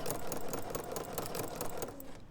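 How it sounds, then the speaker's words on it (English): A sewing machine fitted with a #86 ruffler foot stitches fabric at a fast, even mechanical clatter, close and loud, running alone and then stopping abruptly at the end. "I'm going to put my fabric there, and I'm going to do that same stitch that I've just done and just sew"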